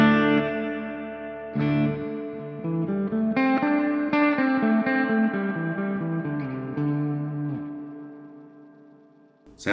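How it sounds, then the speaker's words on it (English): An electric guitar plays a melodic phrase of sustained notes drenched in drippy, bouncy spring reverb from a Strymon BlueSky V2 pedal, tails ringing out and fading at the end. "Sound springy reverb."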